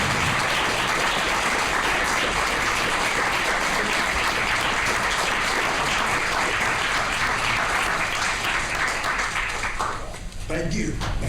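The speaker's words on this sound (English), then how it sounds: "let's give him a big round of applause" A packed chamber at a Reidsville city council meeting breaks into loud, sustained applause for the chief, continuous dense clapping that holds steady for about ten seconds before tapering off.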